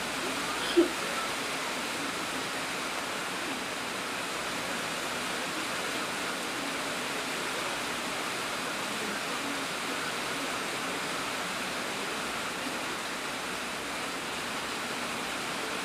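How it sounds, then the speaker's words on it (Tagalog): Steady, dense rain pattering on a roof with no ceiling beneath it, a constant even hiss that fills the whole stretch without pause. "Ang ingay-ingay talaga ng ulan. Wala pa kasi siyang kisame, kaya maingay. Nadidinig yung ulan."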